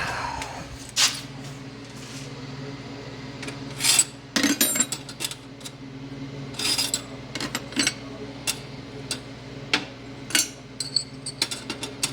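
A drill bit one size bigger enlarges a hole in a battery tray, grinding and rasping in short, uneven bursts, with a steady low motor hum running underneath.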